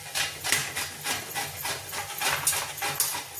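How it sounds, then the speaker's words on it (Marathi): An eggplant (brinjal) is grated on a hand grater, giving rapid rhythmic rasping scrapes, each stroke a short crisp swish repeating steadily at close range. "आता वांगे किसून घेते ना."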